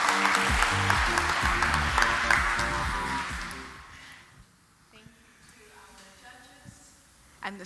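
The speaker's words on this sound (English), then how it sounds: "One more round of applause for Ane and Cindy." An audience at a student architecture awards ceremony claps for students, fairly loud at first and fading out within about four seconds, with music under it and quiet sounds after.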